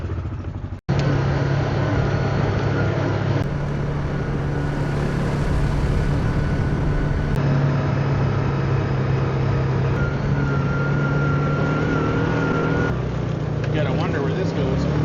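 Car driving along a road, a steady engine and road drone running unbroken from start to finish after a brief thump at the outset.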